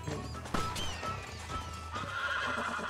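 A horse in the Red Dead video game whinnies over the steady clip-clop of its hooves, with a sharp thump partway through, all fairly close and loud.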